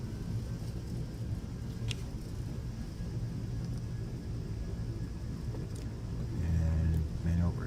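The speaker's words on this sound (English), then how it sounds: "Let's get a whole bunch of reverse in here." Boeing 757 engines in X-Plane 12 roar in reverse thrust after landing, a broad steady rumble throughout that swells louder near the end, with faint clicks over it.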